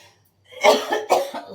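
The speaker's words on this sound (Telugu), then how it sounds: "దగ్గు కూడా వస్తుందండి బాగా" A person coughing up close, two hoarse, forceful coughs in quick succession after a short silence.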